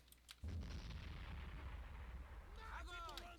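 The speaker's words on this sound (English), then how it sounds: "Mortar's taking seriously heavy fire now" Heavy mortar and artillery fire in the video game Men of War: Red Rising, with dense booming blasts and rumble starting abruptly and continuing throughout, and a sharp crackle of shots near the end.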